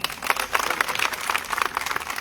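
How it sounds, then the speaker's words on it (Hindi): Scattered applause from a crowd at an employees' protest rally, a handful of claps rising and falling in uneven bursts, moderately close and without talk. "आप एक बार अपने लिए तालियां बजा दें"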